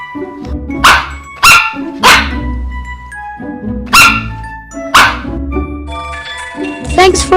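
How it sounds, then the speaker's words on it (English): A brown dog barks in loud, sharp single barks spaced about a second apart, over a tinkling musical background. "Dog barking."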